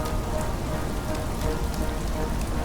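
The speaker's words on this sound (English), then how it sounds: "trying to see through the rain and lightning" Heavy rain falls steadily in a dense, unbroken wash of drops during a stormy night scene, constant and full with no distinct thunderclap, no voices.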